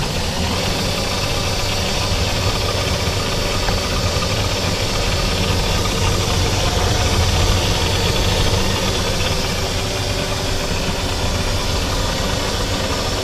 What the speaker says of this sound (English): we're going to keep on mixing here. Get all that in there.